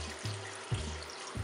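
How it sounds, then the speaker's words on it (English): Hot water pours from a kettle into a pot of Jamaican curry goat, a quiet close splashing trickle in short bursts with brief pauses between. "I have my kettle here, and we're going to just go ahead and add in the hot water"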